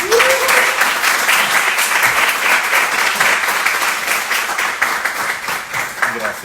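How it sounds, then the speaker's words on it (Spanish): An audience at a creative-industry talk welcomes a speaker onto the stage with loud, sustained clapping from many hands that stays dense and even throughout. "Vamos a darle un aplauso aquí a José Luis."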